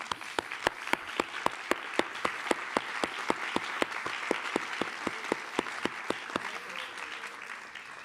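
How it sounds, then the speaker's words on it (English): An audience at a closing conference session claps together in a steady, even rhythm of sharp, distinct beats that carry on loudly without pause, with no voices over them. "I propose now that you all applaud yourselves."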